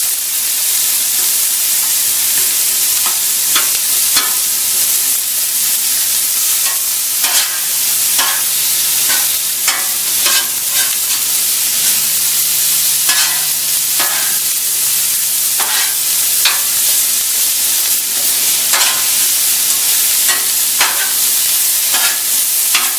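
Ground beef fajitas sizzle loudly and steadily on a Blackstone flat top griddle, with a constant hiss broken by repeated scraping and clattering strokes of a spatula stirring the meat.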